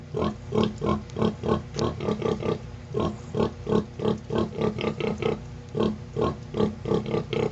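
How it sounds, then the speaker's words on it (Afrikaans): A mother pig grunts rhythmically to her piglets while they suckle. The quick, pulsing run of low grunts is loud and close and continues without a break. "Mamma varke sing vir hul kleintjies terwyl hulle melkies drink."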